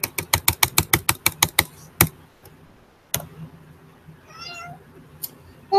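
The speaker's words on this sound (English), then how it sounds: "my cat Lucy says hello" A pet cat gives a short meow near the end, after a fast run of about a dozen sharp ticking clicks and a few isolated taps in a quiet room.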